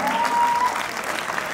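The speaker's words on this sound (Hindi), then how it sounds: "जबरदस्त वाली क्लैपिंग हो जाए दोस्तों" An audience at a network marketing seminar gives a short, energetic round of clapping, loud and continuous, with a faint voice briefly audible at the start.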